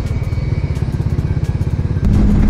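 A TVS Apache RR310 motorcycle pulls away with a loud, steady pulsing engine thrum close by, rising into a fuller roar near the end as it gets going, with no talk.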